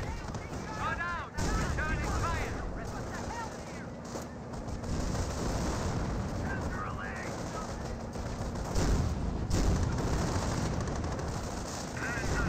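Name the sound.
rocket barrage in the video game Company of Heroes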